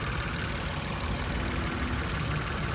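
A 2018 Mitsubishi Mirage G4's small engine idling steadily, a low continuous rumble with a faint knocking texture, no voices.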